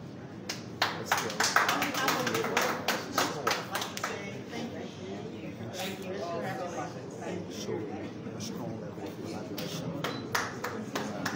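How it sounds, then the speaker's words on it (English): An audience at a signing ceremony in Liberia claps for the signatories, with a burst of sharp, uneven handclaps that thins out, then a few more claps amid faint room chatter. "Ladies and gentlemen, let's give our signatories a big, big applause"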